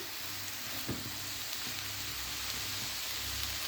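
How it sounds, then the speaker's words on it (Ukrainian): 500 grams of shredded cabbage stews under a lid in a pan. A faint, even hiss of gentle sizzling runs throughout, with one small soft knock early on. "Накриваю кришечкою і залишаю тушкуватися."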